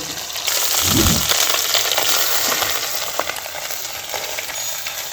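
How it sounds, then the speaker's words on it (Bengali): Small chuno fish coated with salt and turmeric sizzle steadily in hot oil in a pan, a loud continuous hiss with a brief low thump early on. "এবার আমরা মাছটা ভেজে নেব।"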